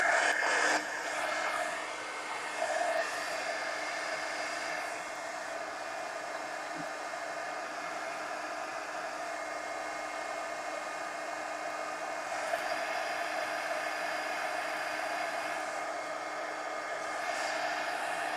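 A hair dryer blows continuously on a coloring page, a steady loud whooshing hum close by with slight shifts as it is moved, running alone the whole time.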